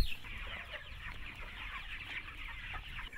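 Free-range chickens in a paddock with alfalfa, ryegrass and clover, giving steady, overlapping clucks and soft bird chatter throughout, close by over a constant outdoor background hiss.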